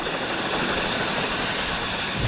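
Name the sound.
helicopter in an animated Beyblade episode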